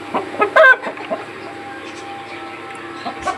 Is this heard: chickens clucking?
yes